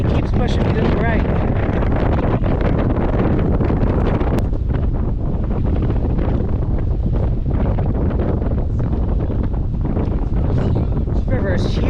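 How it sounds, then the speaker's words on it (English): Strong wind buffets the microphone on a large bridge over a wide river near the Grand Canyon in Arizona, a constant loud roaring rumble throughout with gusty fluctuations and a person talking over it. "Oh my god, it's so windy."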